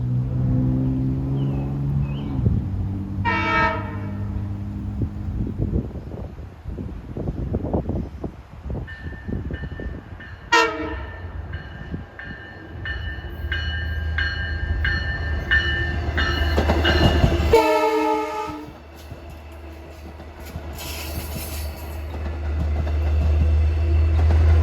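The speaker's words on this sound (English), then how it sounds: "trains with K5 LLA horns should happen to appear" A Montauk train passes with a K5LLA horn sounding in several loud chimed blasts, rumbling and clattering along the rails, then accelerating in a building low roar.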